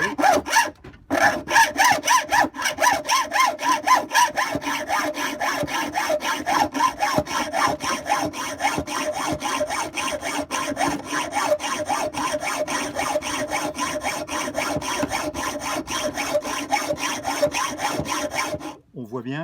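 A hand saw cutting a metal screw in a long, steady run of rapid back-and-forth strokes, close and loud, with a brief pause near the start.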